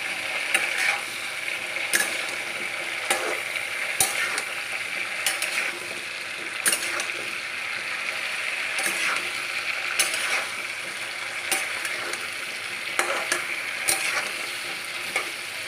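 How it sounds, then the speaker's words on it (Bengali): Vegetables for a vegetarian sabji frying on a high flame, a steady close sizzle punctuated by regular scraping and clanking strokes as they are stirred and flipped, with no talk. "এবার গ্যাসের ফ্লেম হাই করে দিয়ে ভালো করে ভাজতে লাগলাম, এপিট ওপিট করে।"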